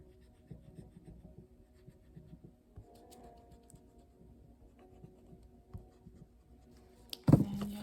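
A pencil colors in a drawing of a tree on paper with soft, quick scratching strokes in a steady rhythm, close and quiet, ending in a brief louder knock.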